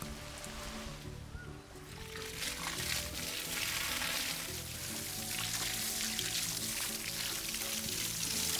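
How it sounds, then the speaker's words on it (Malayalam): Water from a motor-fed hose pours steadily onto a garden plant bed, a continuous splashing rush that grows slightly louder partway through, with no talking. "മോട്ടറും വിട്ടാൽ ഇടയ്ക്കിടയ്ക്ക് ഇങ്ങനെ നനച്ചു കൊടുക്കും വേണം"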